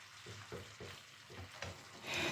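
Food fries together in a pan at low volume, with a soft steady sizzle and faint stirring scrapes while the ingredients cook in oil, no voices.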